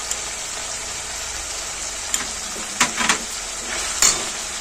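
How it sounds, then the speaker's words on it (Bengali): Tomato fries with coriander powder and turmeric in a pan for egg korma, giving a continuous loud sizzle with a few scraping stirs and short clatters toward the end, with no talk. "টমেটোটা ভাজতে ভাজতে এই মশলাগুলো দিয়ে নেব এক এক করে।"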